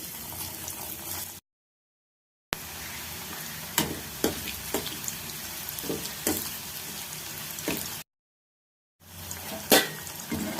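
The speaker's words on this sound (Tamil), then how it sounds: "எண்ணெய் நல்லா காஞ்சிட்டு இப்போ பாவக்காய் சேர்த்துக்கலாம்" Pieces of bitter gourd frying in hot oil in a pan, giving a close, steady sizzle with crackling pops and occasional stirring clinks, broken by two brief silent gaps.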